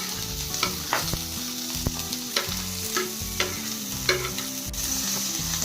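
Poppy seeds, shahjeera and cardamom roasting in hot oil in a pan for Kolhapuri misal pav, a steady close sizzle broken by regular scraping stirs, with no voices.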